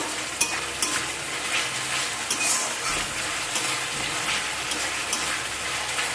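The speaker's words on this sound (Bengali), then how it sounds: "যে মশলার পেস্ট আমি করে রেখেছিলাম সেটা দিয়ে দিলাম এখানে মশলাকে আমি ভালো করে কষিয়ে নেব" Spice paste frying in hot oil in a pan, a loud continuous sizzle with a spoon stirring and scraping through it and a few sharp clicks against the pan.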